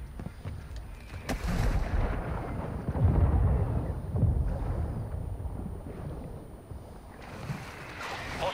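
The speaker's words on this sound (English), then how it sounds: "Hostile mortar strike in the area." Deep, rumbling mortar strike explosions in Call of Duty Warzone roll in one after another, heavy booms swelling and fading under continuous battlefield noise.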